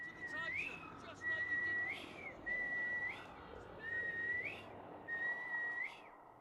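In the video game Oure, a character whistles: five short, clear whistled phrases repeat in a steady pattern, each a held tone ending in an upward flick, with a soft ambient backdrop between them.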